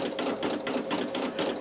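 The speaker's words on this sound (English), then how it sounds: "That looks like the beginning of the satin stitch." A Brother PE800 embroidery machine stitches a satin stitch onto a towel, its fast, even needle rhythm whirring loud and close throughout with no talking.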